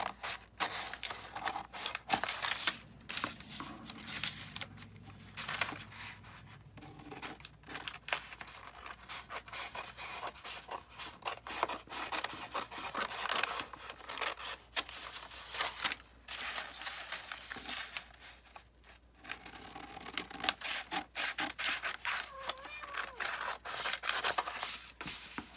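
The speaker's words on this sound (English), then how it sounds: "And I'm just cutting around." Scissors cutting around magazine images for a crafting project: a long run of close, quiet snips and paper rustles in irregular rhythm, with no one speaking.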